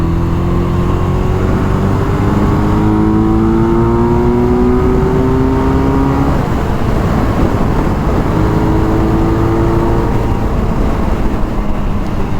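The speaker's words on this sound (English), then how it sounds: "when it comes to getting up to highway speeds, the Hayabusa is the bike to do it" Suzuki Hayabusa motorcycle accelerating hard, a loud, close engine roar climbing in pitch through successive gears with brief shift dips, heavy wind rush throughout and no talking.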